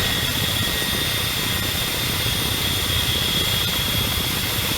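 Ka-50 Black Shark attack helicopter engine in a combat flight simulator, a steady loud turbine whine and rotor roar holding constant throughout with a high tonal hum on top.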